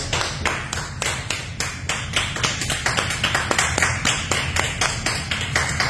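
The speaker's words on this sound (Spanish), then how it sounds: "Denle un aplauso al Señor." A church congregation claps in praise, a dense, steady rhythmic applause that stays loud and even throughout with no voices over it.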